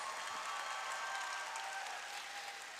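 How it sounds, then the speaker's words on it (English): An audience applauds after an energetic dance crew performance at a school opening ceremony, a steady dense clapping heard from within the crowd, fairly faint and easing slightly toward the end. "Let's give them another big round of applause for their energetic performance."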